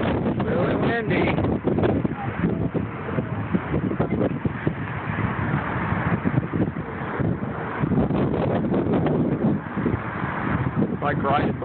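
Strong, gusting wind buffets the microphone during a storm full of cloud-to-cloud lightning, a steady loud broadband roar throughout with speech faintly mixed in.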